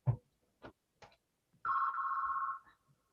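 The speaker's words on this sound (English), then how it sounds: "let me turn down my phone" A phone rings during a city council on aging meeting, a few short separate tones at first, then one sustained steady ring lasting about a second, close and clear with no talk over it.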